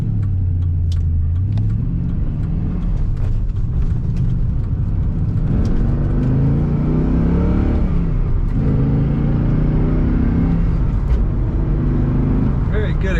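A 2006 Pontiac GTO with a 6-speed manual accelerates from inside the cabin, its engine droning loud and steady with rising then falling tones as it pulls through the gears at highway speed.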